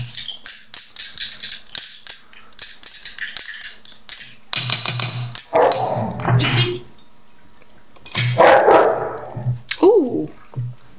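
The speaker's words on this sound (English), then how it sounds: "Those are bad dogs." Several dogs bark in rowdy, repeated bursts, loud and close, with yips and whimper-like sounds in between. Short pauses break up the barking, and people talk at times.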